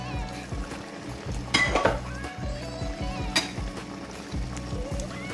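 Beef caldereta with added water, green peas and vegetables gets stirred in a pot, a steady run of soft scraping and knocking strokes near at hand, with a couple of brighter metallic clinks.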